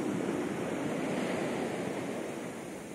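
Stormy morning sea surf rolling in continuously, a steady broadband wash of waves with some wind noise, loud and close, no voices.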